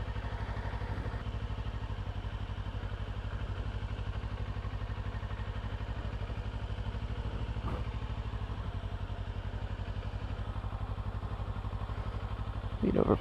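A Kawasaki Ninja 500 motorcycle engine drones at a low, steady idle during slow-speed maneuvers, a constant close rumble with a brief burst of noise near the end.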